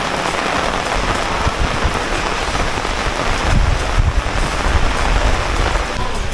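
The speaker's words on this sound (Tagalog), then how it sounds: "sarap maligo sa ulan." Steady rain pours onto a garden with tomatoes and eggplants in Africa, a dense, close hiss of drops with faint low rumbles underneath, continuous throughout.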